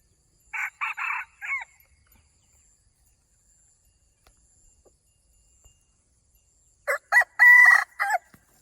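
Two rooster crows, a junglefowl's short clipped call, separated by several seconds of silence; the second crow is louder and closer.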